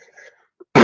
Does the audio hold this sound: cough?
yes